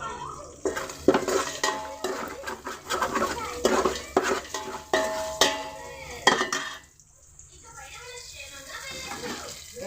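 Tomato and onion pieces, with whole spices and bay leaf, are stirred in a pan for egg biryani, with irregular close clatters and scrapes of a metal spoon against the vessel over a faint sizzle, quieting near the end.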